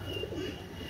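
Pakistani pigeons coo softly in a low, murmuring burst, faint against a steady background hum.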